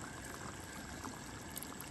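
Water streams steadily into a pot of simmering curry pigeon peas, a continuous close pouring rush lasting a couple of seconds without speech.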